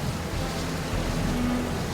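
Heavy rain driven by strong wind in a horror cartoon scene: a continuous, dense hiss of falling water with a low, rushing rumble underneath, steady and unbroken, with no voices.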